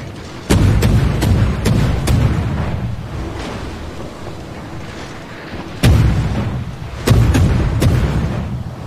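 Battleship main guns fire in a naval battle game, heavy booming salvos that hit with sharp onsets and then roll off into long rumbling decays, three main blasts spread across the span, loud and close.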